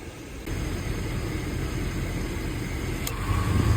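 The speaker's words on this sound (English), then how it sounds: "our compressor is starting to kick in here, so we're getting Freon into the system" Steady engine idle of a 1997 Chevy 1500 with its newly replaced AC compressor clutch engaging, a click followed by a continuous hum as the compressor runs, close and even.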